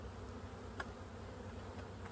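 Honey bees buzz around a hive in a continuous, faint, close-up drone with no voices.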